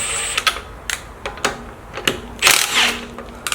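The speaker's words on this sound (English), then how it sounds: "I will loosen the top two bolts" Wheel security lug bolts being loosened with a ratchet: scattered sharp clicks and metallic clacks close by, irregular short bursts with a rattling patch in the middle, no talking.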